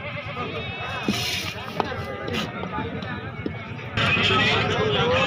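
Goats bleat at a busy goat market in Hasilpur, several short calls over crowd noise and shuffling hooves, with people talking nearby.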